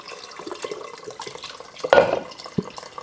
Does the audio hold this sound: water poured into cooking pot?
yes